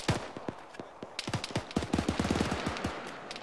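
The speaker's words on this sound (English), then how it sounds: "I'm still hearing shots and seeing muzzle shit east, close." Rapid gunfire during a military field exercise, close and distant shots overlapping in irregular bursts that build into a sustained exchange, with sharp cracks and echoing reports and no talking.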